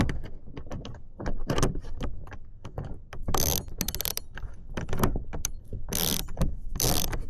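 A ratchet wrench tightens a screw on a BMW Touring bumper bracket, with rapid clicking bursts repeating close up, some strokes long and buzzing, some short.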